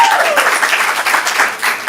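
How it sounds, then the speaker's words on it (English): At a stand-up comedy show, the audience applauds comedian Jeff Bell. The clapping is loud and close and fills the whole short moment, with a voice briefly trailing off at the start. "Give Jeff a round of applause."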